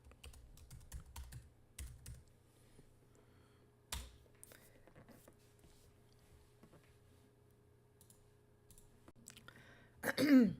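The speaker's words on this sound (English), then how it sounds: "You're going to type in your password." Password typed on a Mac computer keyboard, sparse faint key clicks in short clusters with long quiet gaps, then a louder rustle at the end.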